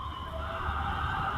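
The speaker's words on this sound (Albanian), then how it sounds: "Alarmi dhe ambulancë." Ambulance siren, a steady wailing tone that is fairly faint and distant, held for a brief moment with no talk over it.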